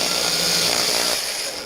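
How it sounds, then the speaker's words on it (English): A power drill bores holes into the airframe of an FMS Super Scorpion 90mm RC jet, with a steady, close whirring grind that tapers off toward the end. "we're going to drill a hole there, and we're going to end up drilling them all in a line"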